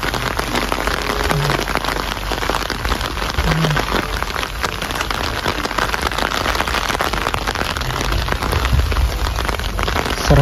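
Heavy rain pours down steadily during a thunderstorm while someone walks along a sidewalk, a dense loud hiss of drops hitting surfaces that stays constant throughout.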